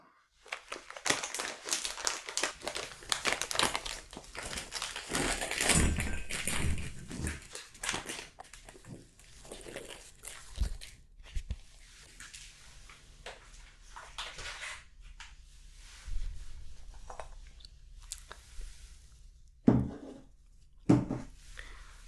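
Dime bar bites, sweet salted crunchy toffee, being handled close up in an ASMR setting: loud crinkling of wrapper plastic and crackling bursts in the first half, then quieter scattered crunches and rustles with a few sharp louder snaps near the end.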